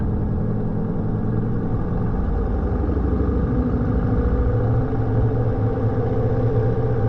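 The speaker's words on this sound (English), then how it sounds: "We're bringing the RPM up to about 1700 RPM." Aircraft piston engine during a ground power run-up to about 1700 RPM, a loud, steady droning rumble with clattering texture that holds at constant power throughout, with no voices over it.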